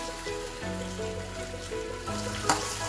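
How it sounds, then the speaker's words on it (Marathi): Chili powder sautés in hot oil for a spicy masala-coated vegetable dish, a close, steady crackling sizzle with a few scraping stirs and a brief louder clatter near the end. "मिरची पण परतली जाणार आहे"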